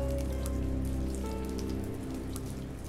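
Steady rain falling on a surface, a dense even patter of drops heard alone without any voices.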